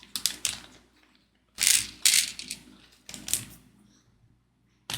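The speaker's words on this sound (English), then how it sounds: "now we're going to put screws in all the sockets." Screws being fitted into sockets on an Optimus Prime model base, heard as short clicking, rattling bursts of small metal parts, close and sharp, separated by brief quiet gaps.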